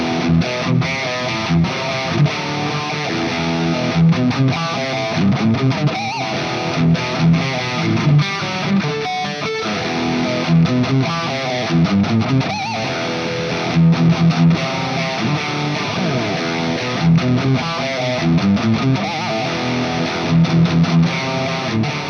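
An electric guitar plays an 80s metal riff through an overdrive pedal into a JM45 amp model in BIAS FX 2, with a thick distorted tone, chugging palm-muted chords and sustained notes, loud and continuous with no voices.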